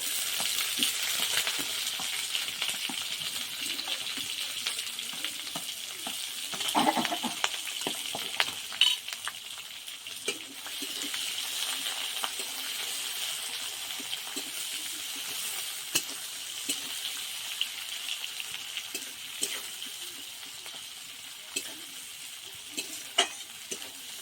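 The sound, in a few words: dried red chillies and chopped onion frying in a pan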